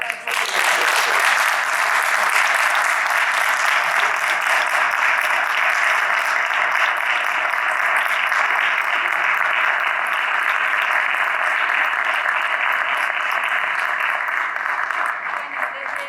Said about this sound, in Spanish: Sí, un gran aplauso.